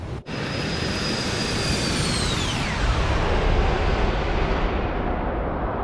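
A Boeing 737-900ER passes by in Microsoft Flight Simulator 2024 with a loud, broad engine roar and deep rumble. A high whine slides downward as it goes past, and the roar then lingers.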